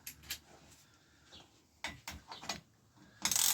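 A ratchet with an 8mm socket tightens square taper crank bolts on a Trek 930 Singletrack bicycle, giving quiet uneven clicking strokes and short metallic ratcheting bursts, ending in a brief louder whirring rattle.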